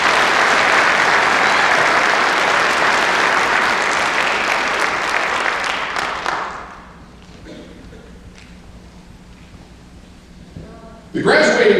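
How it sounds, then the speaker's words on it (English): Loud, sustained applause from a graduation crowd for award recipients at a Border Patrol ceremony, steady clapping for about six seconds before fading into a quiet room. "Please join me in giving the award recipients a round of applause."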